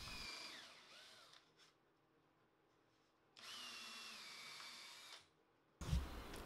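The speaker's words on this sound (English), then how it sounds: "Then I get some pilot holes drilled for it." A power drill bores pilot holes into wood in two sustained whining bursts with a pause between, followed by a brief louder thump and rattle, close and with no talking.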